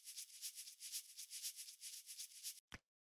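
Shaker sample made from a container of breadcrumbs, giving a rhythmic granular hiss of repeated swishes in a steady pulse, close and clear, ending with a short sharp knock.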